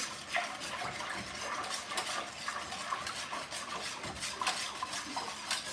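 Spoon scraping and clinking around a pot of homemade chicken noodle soup, a steady continuous stirring rasp with small metallic knocks, close and alone.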